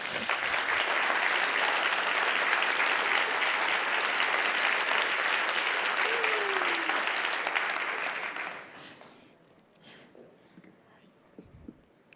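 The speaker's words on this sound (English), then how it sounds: "applause." Loud, sustained applause from a crowd fills most of the clip, then stops abruptly, leaving quiet room noise and a few faint sounds.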